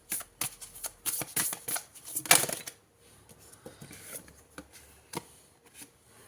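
A deck of oracle cards being shuffled close by, with quick riffling bursts and card slaps, loudest early and then lighter, scattered flicks, with no talking.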